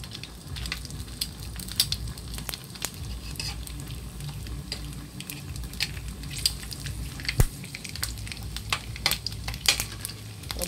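Squid frying in a pan gives a steady, close sizzle, broken by scraping and clinking as a utensil stirs it.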